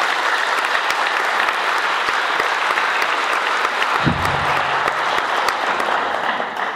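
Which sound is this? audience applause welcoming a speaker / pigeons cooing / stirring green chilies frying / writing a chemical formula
audience applause welcoming a speaker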